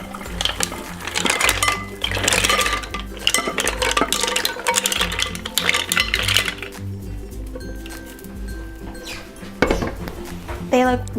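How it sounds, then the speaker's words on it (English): Cooked mussels with red hot sriracha are shifted from a pan into a bowl, with repeated close clatter of shells, scraping of a utensil and clinks of pots and dishes, easing to a quieter stretch before a final clink. "I'm gonna turn the heat off, and I'm just gonna move them to this bowl."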